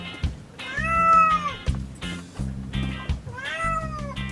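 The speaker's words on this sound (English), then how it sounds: "Can you hear the cat?" A cat meows three times in a row, clear and close, each cry drawn out, with soft thumps and rustling between.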